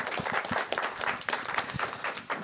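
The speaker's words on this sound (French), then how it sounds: "On va vous applaudir." An audience gives a choir a round of applause, many hands clapping together in a full, lively burst that carries on briefly.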